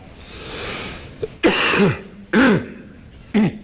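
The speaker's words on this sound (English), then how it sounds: "I have a little cough because I've just been to London and picked up the London flu" A man with flu clears his throat and coughs three times, loud, close and sharp, with short pauses between each.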